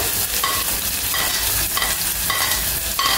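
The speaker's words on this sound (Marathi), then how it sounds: "कढीपत्ता परतला की आपल्याला कांदा घालायचा" Onion frying in a pan with curry leaves and a little garlic, giving a steady broadband sizzle with intermittent stirring scrapes, close and continuous without speech.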